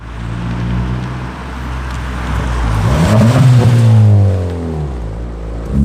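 A car engine pulls away at the start of a road test, its loud droning note climbing in pitch as it accelerates and then settling. There is no talking.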